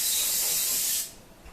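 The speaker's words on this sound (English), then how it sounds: "we're going to spray our pan with olive oil cooking spray" A single continuous burst of olive oil cooking spray hissing onto a pan, about one second long and close, then cutting off to quiet.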